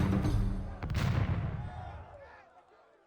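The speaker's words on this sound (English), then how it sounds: "the drone of splashing oars is finally drowned out by the thunder of cannon" A heavy cannon blast booms in a naval battle of galleys and galleasses in Age of Empires II, a loud thunderous report followed by a long rumbling decay that fades out over a few seconds.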